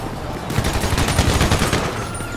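Loud, close minigun fire in Grand Theft Auto 5, a continuous rapid rattle of shots in one sustained burst lasting about two seconds.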